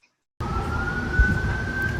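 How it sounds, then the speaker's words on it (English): A single emergency vehicle siren holds a steady, sustained wail over rumbling street traffic, loud and continuous after a brief silent start. "And as sirens blare, we'll stay alert."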